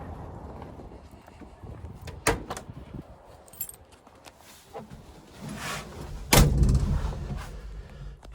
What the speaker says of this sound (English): let's jump inside, shut the doors, start it up, see if there's any noticeable audio difference